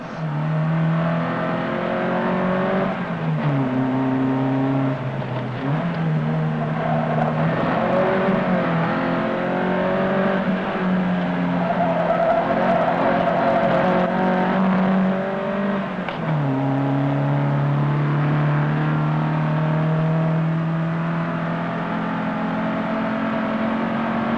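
An Alpine A310 rally car drives on an icy road, its engine loud and close, revving and shifting through gears as it accelerates, with no talk over it.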